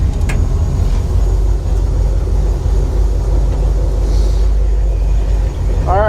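A Toyota FJ40 fitted with a new PSC steering system rumbles along on a test drive, a steady loud engine and road drone from inside the cab, with no talk.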